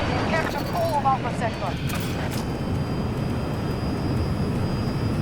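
A fighter jet's engine roars from behind the player during an aerial dogfight in Battlefield 2042, a loud continuous rumble with brief electronic game tones at the start.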